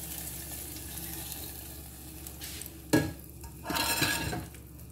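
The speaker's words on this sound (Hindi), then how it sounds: "ये आपके सामने तड़का देंगे" Steady sizzling of tadka spices and curry leaves in hot oil, with a sharp clink near the middle and a louder burst of hissing toward the end, no voices.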